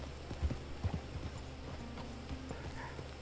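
Horse hooves clip-clop in Red Dead Online, several low, fairly close thuds in an uneven gait over a steady game ambience, with no talk.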